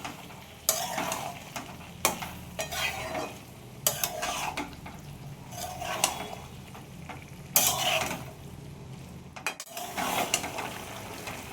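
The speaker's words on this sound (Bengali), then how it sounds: "এরপর এগুলোকে ভালো করে আমি কষিয়ে নিচ্ছি" Ghugni peas sautéing in a pan with a soft sizzle, stirred with a utensil that scrapes and clinks against the metal in regular, close strokes.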